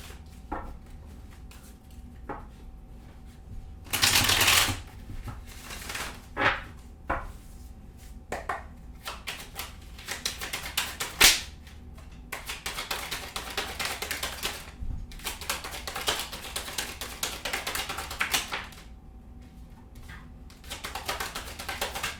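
Tarot cards shuffled and laid out on a table: quick riffling flutters, then scattered soft slaps and taps as cards are set down, quiet and close.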